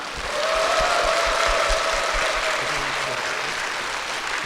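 A church audience breaks into warm, sustained applause. The dense, steady clapping of many hands is fairly loud and close and fills the whole moment, with no voices over it.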